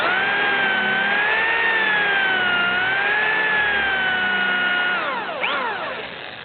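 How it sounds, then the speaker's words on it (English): A drill boring dowel holes, backing out now and then to clear chips, gives a loud steady whine that wavers slightly in pitch and then drops and trails off near the end. "Now when I'm drilling, I'm going to drill in a little ways and then back up slightly to let the chips clear."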